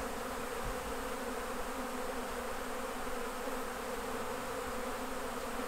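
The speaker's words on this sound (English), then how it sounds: "feeding it back to the bees" Dense, steady buzzing of many honeybees close by on honey frames, a continuous insect drone with no voices, holding at an even level throughout.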